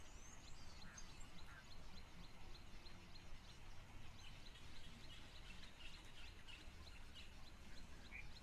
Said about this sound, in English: Oh, I can also hear red-billed buffalo weaver. Sounds like they're busy at work creating nests.